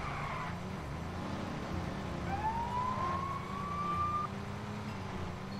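A single rising police siren whine in Lego City Undercover sweeps up and holds briefly, then cuts off, over a steady low engine rumble and background noise.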